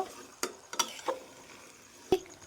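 Mutton masala with chopped tomato and whole garlic cloves being stirred in a pan, a few separate scraping clinks of a spoon against metal spaced across a quiet, faintly sizzling background.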